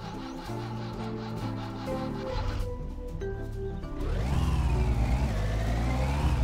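A car engine in the video game My Summer Car, the Ruscko, turns over and revs up, rising in pitch over the last couple of seconds, loud and close over a steady electronic music backing.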